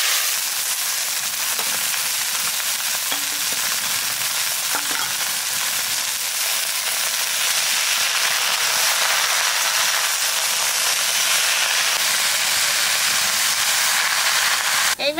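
Mustard greens hit hot oil already crackling with mustard seeds and dried red chili, giving a loud, steady, close sizzle and frying hiss that runs unbroken throughout with no talking.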